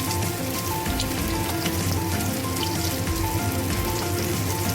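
A dense, steady sizzle of oil crackling and spitting as katla fish pieces fry in a small amount of oil, continuous and close, with no voices.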